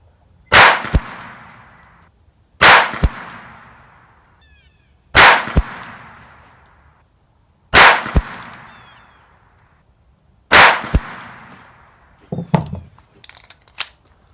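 Ruger Mark IV .22LR pistol firing at a 100-yard range: five crisp, evenly spaced shots about two and a half seconds apart, each followed by a short decay, then faint handling clicks, no talking.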